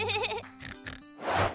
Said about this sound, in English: That was definitely George's oink